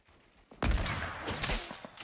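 Gunfire from players shooting in Fortnite, a burst of loud overlapping shots that swells after a quiet start, continues in rough rapid cracks and tapers off.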